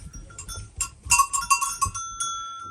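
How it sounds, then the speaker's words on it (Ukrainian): Goats bleating on a family farm in Brustur in the Carpathian mountains, several loud, close, wavering calls in a rapid cluster with a cowbell-like ring in the background. "Ну, бачимо, які красиві кози."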